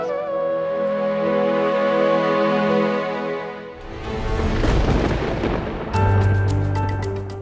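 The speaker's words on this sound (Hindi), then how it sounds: "बहुत तेज आंधी आ रही है और मौसम भी खराब है" A strong storm in a Hindi TV drama brings a loud, rumbling burst of thunder and wind in the middle, set between stretches of sustained dramatic music.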